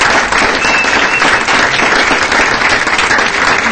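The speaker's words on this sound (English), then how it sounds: "Let's give them a big round of applause" A city council meeting audience bursts into loud, sustained applause for a visiting elementary school class, dense continuous clapping filling the room with a faint murmur of voices beneath.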